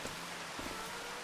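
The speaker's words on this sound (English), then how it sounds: "Now we have the rain here." Steady rain falling over farmland in Farming Simulator 25, a soft, even hiss of drops that stays quiet and continuous with no voices over it.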